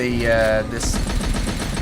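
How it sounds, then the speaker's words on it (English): Rapid bursts of video game gunfire crackle in a fast rhythm after a short spoken phrase, continuing steadily to the end. "So it's really gunfire."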